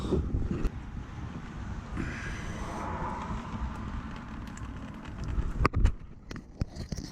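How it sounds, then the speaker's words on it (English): Coolant from a BMW E28/E30 cooling system gushing out of the open drain plug onto the ground, a steady broadband splashing rush that swells after the first couple of seconds and continues throughout. "with drain plug out, I'll open up the reservoir and we should hear it flush"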